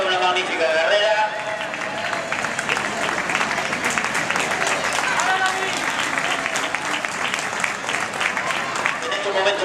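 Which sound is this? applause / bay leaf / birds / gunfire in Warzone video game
applause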